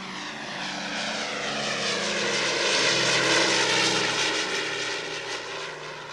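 Engines of a Halifax bomber idling and running, a steady loud propeller-driven roar that swells toward the middle and eases off, with no voices over it.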